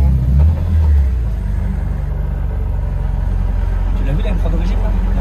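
A BMW E36 325i drift car fitted with an S54 engine and a new turbo rumbles close by, giving a steady, loud, low engine drone that holds through the whole stretch.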